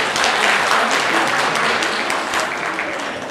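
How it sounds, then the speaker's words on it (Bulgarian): Sustained audience applause at a Christmas celebration for children in Vratsa, loud and dense throughout, clapping steadily with a faint murmur of voices underneath and tapering slightly at the end. "Аплодисменти за министър Аврамова, за госпожа Николова"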